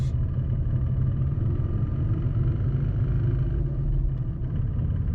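A loud, steady engine and drivetrain rumble with a continuous mechanical rattle from the clutch up front, heard up close from inside a moving car in gear.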